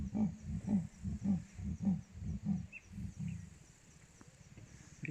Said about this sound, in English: That's a Three Rivers female busy rasping or roaring.